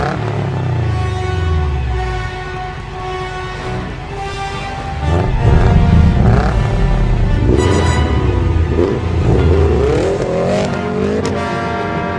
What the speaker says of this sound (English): drift Subaru STIs around in the snow